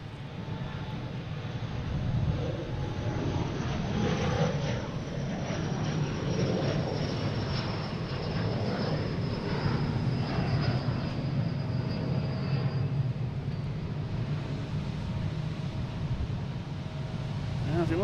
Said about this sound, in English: And taking off here is a Delta heading to Charlotte,